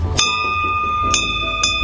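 Three strikes of a small bell ring out at steady intervals, each with a bright metallic ring that sustains between hits, heard close up before a trek up a hill to a Chaurai Devi temple.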